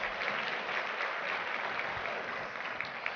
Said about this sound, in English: let's give Fort Lauderdale and Port Everglades a round of applause